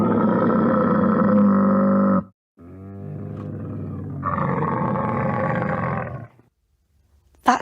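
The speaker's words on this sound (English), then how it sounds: "It's a camel." A camel vocalizes in long, loud groaning roars, two sustained bellows separated by a short pause and followed by a brief final burst, heard alone without talk.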